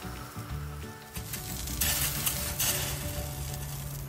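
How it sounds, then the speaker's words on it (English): Water droplets hit a hot pan and burst into loud hissing sizzle, turning to steam, with crackling spurts that rise and fall over a few seconds. "When you drop water on a warm pan, it sizzles and turns into steam right away."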